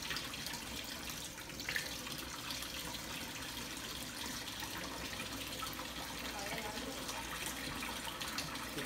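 Steady water runs from a tap, a continuous close rushing splash held at even level throughout with no voices.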